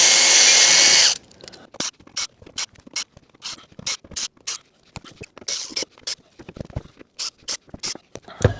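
A power drill backs galvanized screws out of boards during cabin demolition, a rapid run of short ratcheting whirs and clicks in uneven bursts, close by, after a brief loud start.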